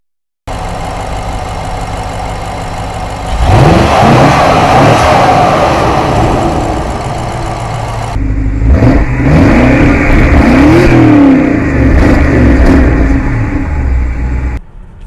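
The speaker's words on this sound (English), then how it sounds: "So this is the 2015 X6 50 with the V8 twin scroll turbo engine" A 2015 BMW X6 50 with a twin-scroll turbo V8 of about 450 horsepower pulls away and accelerates, its engine note climbing through loud sweeping revs, dropping, then surging again in steady, close drive noise.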